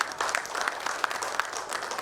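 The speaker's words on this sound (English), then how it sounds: "Can we please give them a round of applause?" An audience claps for a panel at a BFSI sector conference, a brief burst of steady applause from a moderately sized crowd, dense and even throughout.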